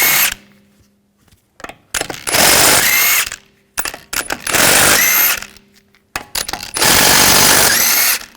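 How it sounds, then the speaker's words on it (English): An impact gun with a 17mm socket spins lug bolts off a 2007-2013 BMW 328i wheel, three loud whirring bursts of about a second each, separated by short ratcheting clicks and quiet gaps. "Using a 17mm socket, we want to take these lug bolts out."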